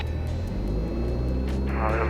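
A Cessna Skyhawk's engine drones loudly and steadily at full power, a constant rumbling roar that swells slightly toward the end.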